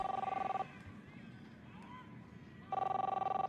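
Electronic telephone ringing in the video game Captain Spirit, loud repeating bursts of ringing that stop partway and then resume, with quieter game ambience in the gap.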